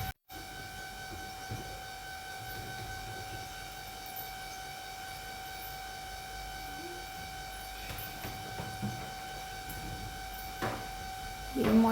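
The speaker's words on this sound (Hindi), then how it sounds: "मोटर का वॉइस आप इग्नोर कर दीजिए कि बहुत तेज़ वाला साउंड हो रहा है मोटर का" A household water pump motor runs loudly and steadily, a constant droning hum with fixed tones, broken by a few faint knocks and clatters.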